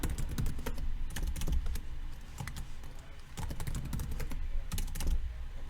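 Steady, close keyboard typing on a computer, with quick irregular keystrokes and clustered bursts continuing throughout as a password is entered, with no speech over it.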